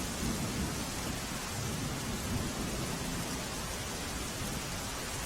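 Steady, heavy rain pours down without pause near a flooded bridge by an overflowing lake, a dense, even hiss with no voices and no break in intensity.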